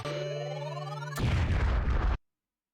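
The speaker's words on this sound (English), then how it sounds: "Love the explosion noises." A rising electronic tone leads into a single loud, crackling bomb blast from a Bomberman video game, which lasts about a second and then cuts to silence.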